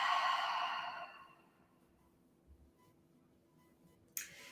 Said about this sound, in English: take a slightly deeper breath. And feel the energy of that inhalation and exhale out your mouth